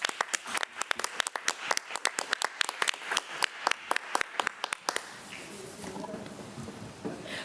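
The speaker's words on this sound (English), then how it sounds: "So let's give them another round of applause." An audience at a school board meeting breaks into applause: sharp claps, sparse at first and then thickening, fading after about five seconds into murmuring room noise and faint voices.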